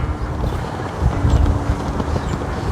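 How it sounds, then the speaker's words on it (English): Steady gusting wind roars over the microphone, a dense low rumble with buffeting bursts, continuous and loud throughout. "It is so windy."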